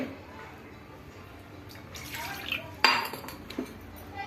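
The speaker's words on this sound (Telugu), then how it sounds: "ఇప్పుడు మసాలా గిన్నె కడుగుతాం కదా" A masala bowl is rinsed with water, giving a few light clatters and a sharp clink of metal dishware near the end, close by over a low background hiss.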